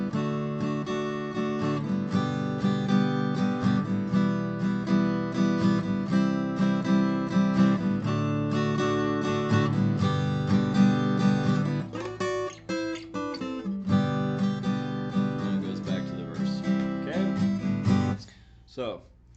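An acoustic guitar plays a chorus in two-part harmony, a strummed, sustained chordal texture with a steady rhythm that fades out at the end.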